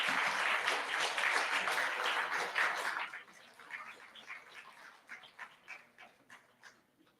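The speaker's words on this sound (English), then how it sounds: "a big applause to Dr. Gige." Audience applause after a keynote presentation at the TeMIC 2023 conference, a dense, loud wash of clapping for about three seconds that then thins into scattered individual claps and fades out.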